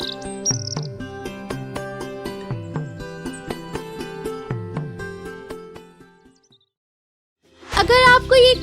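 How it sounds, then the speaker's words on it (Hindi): Bright chirps and trills from birds in a garden for a children's story, repeating in quick bursts over a soft tonal bed, then fading to silence before a louder flurry of calls returns at the end. "बाग में फिर से चहचहाट आ गई थी"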